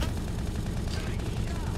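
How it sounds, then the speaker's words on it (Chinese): Heavy machine gun fire in a first-person shooter game, a dense, continuous roar of rapid shots without a break across the whole stretch. "他们都是重机枪啊，机动性超高的重机枪"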